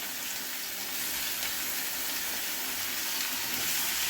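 Ground small onion paste for Chettinad-style thokku sautés in oil, a soft, steady sizzle with a faint watery bubbling, moderately close and unbroken, no talking.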